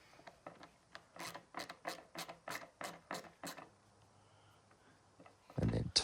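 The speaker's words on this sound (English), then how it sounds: "And then tightened it all up so that the hinge would not bind up." Screws being tightened into the hinge of a hand-made blue gum timber humidor, a run of about ten quick ratcheting clicks close by, then quiet, with a short louder knock at the end.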